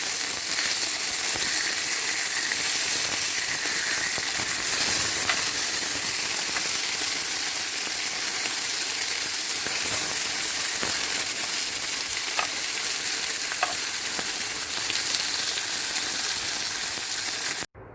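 Beef entrecote steak sizzling and frying in a pan at home, a loud, steady, unbroken hiss held throughout with faint crackles and no talking.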